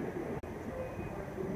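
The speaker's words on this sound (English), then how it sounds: "We have a train here in the station, and we're going to take a look at the cable that pulls it in." A cable-pulled BART airport train on the line to Oakland airport, standing in the station, gives a steady, loud mechanical rumble and hum with one brief dropout.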